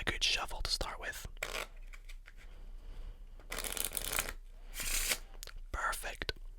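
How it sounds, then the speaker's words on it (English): A deck of Bicycle playing cards riffled and shuffled up close in several crisp bursts, with soft rustling handling between them and a whispering voice now and then. "we'll give it a good shuffle to start with"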